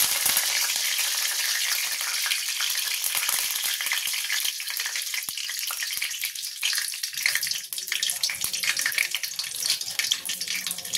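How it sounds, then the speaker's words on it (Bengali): Mustard seeds and curry leaves hit hot oil with a loud, continuous sizzle, thick with rapid crackles and popping seeds close by, easing slightly toward the end, with no speech. "এবার একটু সর্ষে দিয়ে দেবো, আর দেবো কারি পাতা।"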